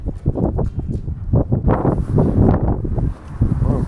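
Strong wind buffets outdoors on a cold, sunny day, with loud, gusty rumbling and microphone rustle that rises and falls throughout.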